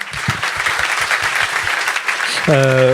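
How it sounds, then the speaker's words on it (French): Applause fills the room at an innovation awards evening, dense clapping throughout, and a voice begins speaking over it near the end. "On peut l'applaudir à nouveau"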